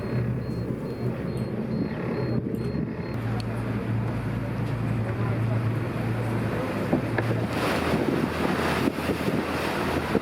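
A boat cruising along the Cyprus coast, with a steady low engine drone and water rush under constant buffeting wind noise on the microphone, no pauses throughout.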